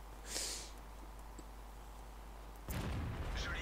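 A tank cannon fires in a tank video game, a stock-gun KV-4 battle, with a short boom near the start and a second heavier blast near the end over a constant low engine rumble.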